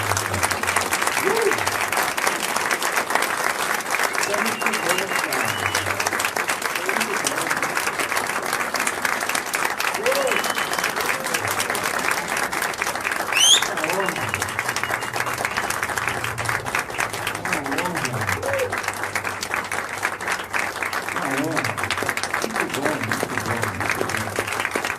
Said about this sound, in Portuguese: é um desses caras que merece muito aplauso